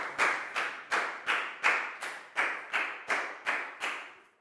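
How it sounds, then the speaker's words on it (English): A small class claps for a student in a Year 4 English lesson, with about ten slow, even group claps in a steady rhythm, fairly close and clear, with no talking over them. "High five and a big round of applause for Pangpon"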